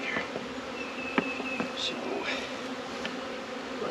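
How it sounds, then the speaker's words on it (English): Honeybees buzzing around a hive at a vineyard apiary, a dense steady hum of many insects close by with occasional louder passes, and a brief spoken word. "lots of bees."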